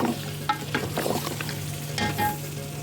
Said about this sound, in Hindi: चमचा आप ऐसा चलाएं नीचे की तरफ से ले जाकर, ताकि हड्डियों से जो गोश्त इसका गूदा है वो नहीं निकले